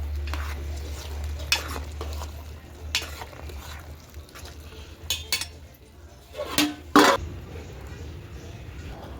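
Goat head mutton curry being stirred in a pot, with scattered scrapes and clinks of a ladle against metal over a steady low hum, a couple of louder knocks near the end.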